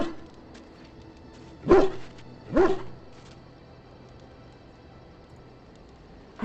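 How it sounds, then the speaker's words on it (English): A small dog in the video game Dragon Age Origins gives two short, excited barks a second apart, fairly close, against quiet game ambience. "Bounces around, barking excitedly."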